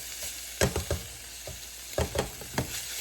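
Garlic frying in a pan in a home kitchen, a close, steady sizzle broken by several sharp knocks and scrapes of stirring.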